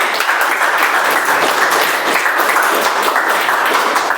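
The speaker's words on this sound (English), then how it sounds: "let's give them a round of applause" Steady applause from the audience at a Toastmasters club meeting, honoring the best speech evaluator; dense, continuous clapping holds at an even level throughout with no pauses.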